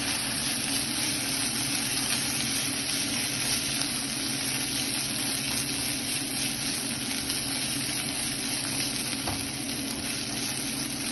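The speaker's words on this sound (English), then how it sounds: "We're going to add our ginger garlic paste and mix until we don't have a raw smell." Ginger garlic paste being stirred into golden brown onions frying in a pan, a steady close sizzle with soft stirring scrapes running throughout, no talk.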